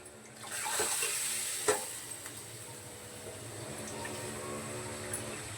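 Hot water poured from a jug into a thick mixed toor and moong dal in a home kitchen: a steady, soft splashing pour with a brief clank partway through, fairly quiet and without talk.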